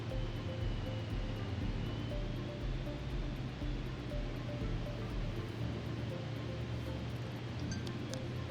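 An aircraft comes in to land in Microsoft Flight Simulator multiplayer, a steady, loud broadband engine and wind drone that holds evenly throughout with no voices.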